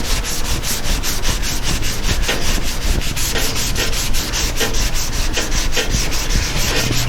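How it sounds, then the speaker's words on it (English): Hand sanding on a truck bed, a rapid, steady back-and-forth rasp of abrasive on the surface, close and continuous throughout with no speech. "if I sand down on the top"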